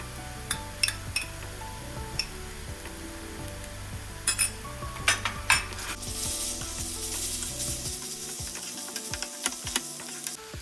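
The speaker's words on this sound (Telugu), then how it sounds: "ఇప్పుడు కొంచెం అల్లం వెల్లుల్లి పేస్ట్ వేసుకుని ఒక 1 మినిట్ వేగించుకోవాలి" Ginger garlic paste fries with onions in a pan for chicken curry, sizzling steadily while a spoon stirs and clinks against the pan now and then, the sizzle growing louder toward the end.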